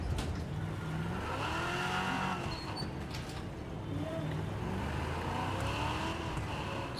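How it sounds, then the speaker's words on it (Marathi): A car engine in a racing video game hums and revs steadily at moderate distance, with rising and falling engine tones, under someone talking throughout. "ही गाडी ऍक्च्युली त्याच्यापेक्षा पण मस्त आहे स्मूथ आहे आणि फास्ट आहे"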